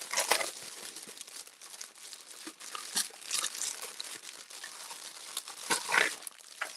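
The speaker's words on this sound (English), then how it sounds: "sorry for all the rustling" Packaging for a spring release of craft papers rustles and crinkles continuously while being unboxed, a close, fairly quiet stream of crackles and crumples with a few louder bursts, no talking.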